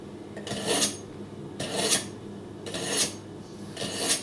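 Four rasping strokes of a Cutco blade through a Cutco #80 sharpener, evenly spaced, each a bright gritty scrape, moderately quiet and close with no voices.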